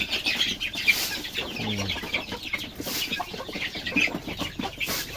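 A hen clucks repeatedly nearby among soft peeping of chicks and rustling, with a few short vocal bursts scattered through.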